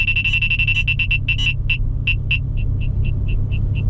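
A radar detector's rapid electronic beeps chirp in a quick burst, set off by a roadside speed sign, then slow to evenly spaced single tones, over the steady low rumble of a moving car.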